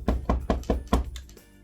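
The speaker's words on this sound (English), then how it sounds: "Then she knock again." Five firm knocks land on a door in a quick, slightly uneven rhythm, close and fairly loud, then fall silent with no voices.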